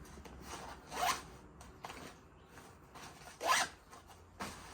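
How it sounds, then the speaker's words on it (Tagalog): A zipper on the back of a Fjallraven Kajka 75L backpack is pulled in two short, quiet, scratchy strokes, close by with a faint background hiss and no talking. "May zipper sa likod."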